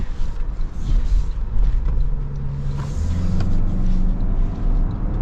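A Toyota Land Cruiser with a hybrid turbocharged four-cylinder accelerates from inside the cabin, its engine tone rising steadily under a loud, continuous road rumble.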